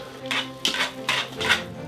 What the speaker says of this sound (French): on mélange grosso modo, on fait un tourne et retourne